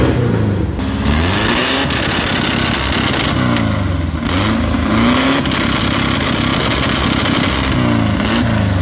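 A 1982 Volkswagen Fusca with Porsche wheels revs its air-cooled engine loudly and close up in repeated rising-and-falling bursts, raw and raspy, with crackling exhaust pops between throttle blips.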